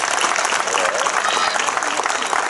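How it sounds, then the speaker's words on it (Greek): Sustained applause from an audience at a folk dance performance event, dense and steady clapping throughout at close to moderate distance, with faint crowd murmur underneath. "Θα θέλαμε ένα γερό χειροκρότημα για να ενθαρρύνουμε τους χορευτές μας"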